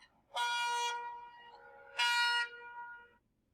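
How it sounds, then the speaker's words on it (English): A ship's horn sounds two long, deep blasts, the first held longer than the second, each trailing off into a fading echo. "Ship."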